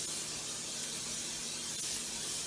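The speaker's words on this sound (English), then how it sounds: "I'm just going to use this olive oil spray." Olive oil cooking spray hissing steadily into a skillet over high heat, a continuous close broadband spray with no talk.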